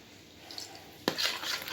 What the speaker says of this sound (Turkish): Bu şekilde karıştırayım.